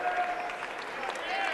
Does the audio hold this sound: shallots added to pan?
no